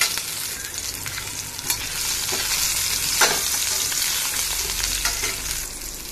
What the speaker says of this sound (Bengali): তো এবার গোটা গরম মশলা আর এই টমেটোটাকে একটু ফ্রাই করে নেবো ভালো করে